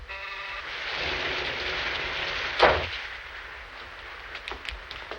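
Rain falls steadily outside in a 1937 film scene, a broad soft hiss filling the clip, with a sharp thump or crack partway through and a few faint clicks after.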